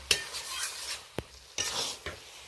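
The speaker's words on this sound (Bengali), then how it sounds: "এটা ভালো করে বেশ কয়েকবার নেড়ে চেড়ে নিলাম।" Banana flower and shrimp ghonto with lentils being stirred in a pan, a few quick scraping strokes of a spatula against metal over a faint sizzle, close and alone.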